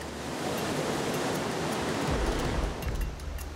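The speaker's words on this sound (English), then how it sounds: "We're going into this blowhole now. That's quite a lot of water, eh?" Seawater surges through a basalt rock blowhole, a loud, broad roaring wash heard close up that swells and thickens midway as a new surge pours in.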